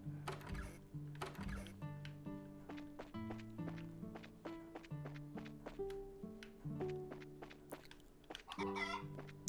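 Chickens clucking in the video game Trails in the Sky the 3rd, a steady stream of short, choppy clucks over game music with tapping accents, moderately loud and with no talk.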